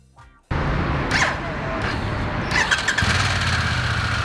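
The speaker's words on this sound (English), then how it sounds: "the first flaw is that it sometimes doesn't want to start its engine" A Harley-Davidson Pan America 1250 Special motorcycle engine cranks and catches, then idles with a steady rumble and some squealing, fairly close; the engine sometimes fails to start.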